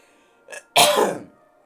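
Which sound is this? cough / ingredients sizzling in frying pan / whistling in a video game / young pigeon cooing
cough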